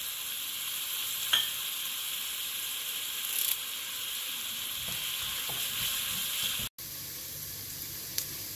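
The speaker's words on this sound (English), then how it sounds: "After sauteing the onions on a medium flame for a few minutes, I am going to add the fish now." Onions sautéing in a pan over a medium flame for a fish thoran, a steady bright sizzle with a few scrapes and clinks of stirring and no voices.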